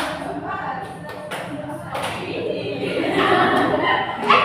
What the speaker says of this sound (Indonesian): kamu dulu tepuk semangat sama kami